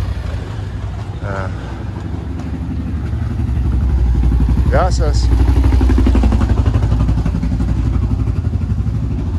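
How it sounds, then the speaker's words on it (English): A motorcycle engine approaches and rumbles past down a narrow alley in Chora, Patmos, loudest midway, with low traffic and town noise around it and a brief spoken word. "Now a motorcycle comes down the alley."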